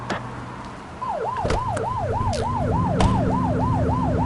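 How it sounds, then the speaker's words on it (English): A police car siren in the video game The Precinct starts about a second in and wails in a steady, repeating yelp. It sits loud and close over a low engine hum, with a few sharp clicks and knocks mixed in. "blip the siren to make them pull over"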